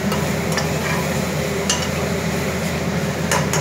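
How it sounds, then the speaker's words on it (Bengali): Chicken is stirred in a lightly oiled pressure cooker, with a steady sizzle of frying under scattered clicks and scrapes of the utensil against the metal pot. "দেখুন নাড়াচাড়া করছি এভাবে"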